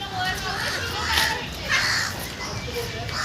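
Crows caw repeatedly in short harsh bursts, fairly close, mixed with background chatter and voices of people nearby during an industrial site visit.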